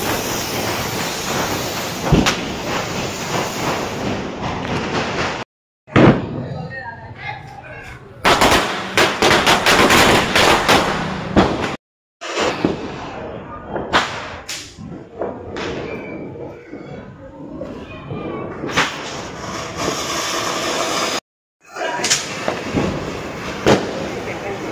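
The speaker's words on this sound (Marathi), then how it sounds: "मस्त मजा येते फटाके फोडायला आपल्याला." Diwali firecrackers bursting in a string of loud sharp bangs, separated by short silent gaps and mixed with crackling, with voices heard in between.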